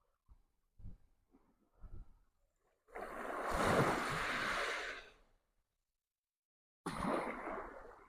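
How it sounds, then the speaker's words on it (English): Warm seawater on a Sardinian shore washes in as the tide rises: a few soft sounds, then a long rushing swell that fades, and a second surge starting near the end. "Ooh, the tide is coming up."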